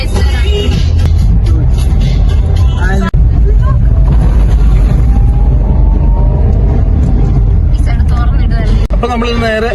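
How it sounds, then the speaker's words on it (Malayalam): A bus passes on a hill road through tea estate country near Elappara, Kerala, its engine noise loud and continuous alongside other traffic and background voices. "ബസ് വരുന്നുണ്ട്."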